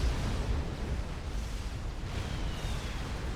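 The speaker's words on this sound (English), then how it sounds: "There goes an explosion." An explosion during a 5v5 custom match of the real-time strategy game Supreme Commander, a sustained deep rumbling roar that stays loud and even throughout, with no voices.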